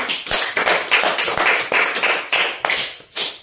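An audience clapping for a lucky draw winner, a brisk run of sharp, close claps in uneven bursts that swell and fade over a few seconds.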